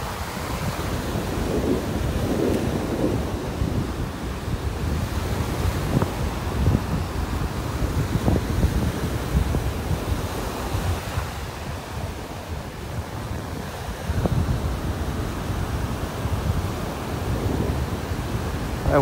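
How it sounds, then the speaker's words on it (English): Strong gusty wind on a North Naples, Florida beach buffets the microphone in steady low roaring bursts, with surf washing faintly underneath and no talking. "That wind is just nailing me, hitting me straight in the face here."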